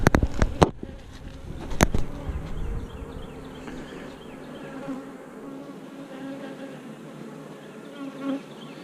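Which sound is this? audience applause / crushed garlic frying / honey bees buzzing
honey bees buzzing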